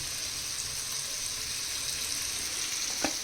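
Mustard seeds fry in hot oil, a steady close sizzle throughout with a few faint pops near the end.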